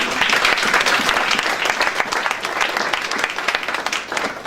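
Audience applause from a crowd, dense steady clapping that fills the whole stretch, loud and close, with a slight fade toward the end.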